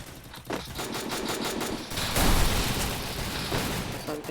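Gunfire from an M590 shotgun in the video game Free Fire rings out in rapid bursts of loud shots, clustered and overlapping, with a heavier blast near the middle.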